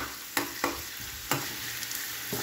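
Chili and ginger sauté in a hot pan, a soft steady sizzle broken by a few sharp scrapes and clinks of a stirring utensil, fairly quiet and with no talking.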